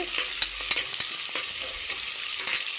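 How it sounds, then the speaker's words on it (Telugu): Onions and curry leaves stir-fried in a pan for a mirchi tempering, a steady close sizzle broken by irregular scrapes and taps of a spoon stirring, with no voices. "ఇందులోకి మనము ఉల్లిపాయలు కరివేపాకులు కూడా వేసేసుకుందాం వీటిని ఒకసారి బాగా మిక్స్ చేసేసుకుందామండి"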